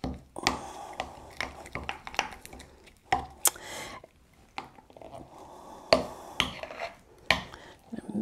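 Turmeric ghee ingredients are mixed together by hand in a bowl, producing irregular close clicks, taps and soft squishes in uneven bursts with quiet gaps between.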